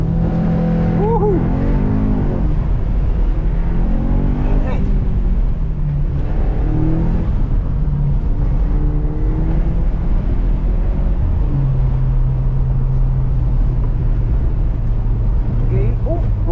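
A car runs its first autocross lap of the day on barely warmed oil, its engine droning loud and steady with rising and falling revs throughout, while people talk and cheer over it inside the car.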